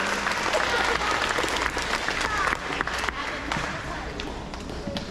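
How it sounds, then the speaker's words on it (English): An elementary school awards gathering breaks into sustained applause for award winners, many hands clapping in a dense crowd sound with scattered louder claps, fading slightly toward the end. "Let's give all of our On the Right Track Award winners a round of applause."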